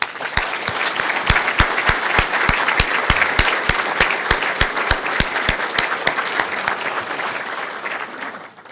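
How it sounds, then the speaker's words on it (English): Audience at a presentation by the O'Hare Modernization Program's executive director applauding steadily, with a prominent nearby clapper keeping a regular beat over the crowd, fading slightly at the end. "if you can join me in please giving them a round of applause"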